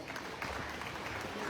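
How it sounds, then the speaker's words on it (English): Applause for former students at a school event in Benaulim, a dense, even patter of many clapping hands, faint and continuous over the short stretch. "a big round of applause to our ex-students."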